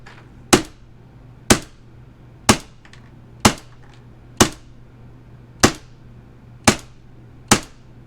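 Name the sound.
AAP-01 airsoft pistol firing green gas with Glock magazine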